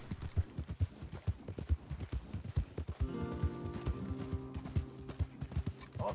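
Horses trotting in a steady clip-clop rhythm in Red Dead Redemption 2, hooves drumming close by, with a low droning tone joining partway through.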